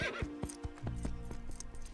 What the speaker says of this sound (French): Regarde ce superbe pur sang.